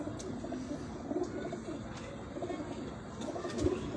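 Ferozpuri high-flyer pigeons cooing softly and repeatedly, low throaty coos close by over faint background noise.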